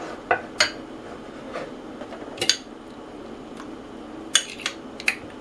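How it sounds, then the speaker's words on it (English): Broccoli goes into beaten eggs in a bowl, giving scattered light clinks and taps of utensil against the bowl, several in quick pairs, fairly close and quiet. "now we add broccoli to eggs"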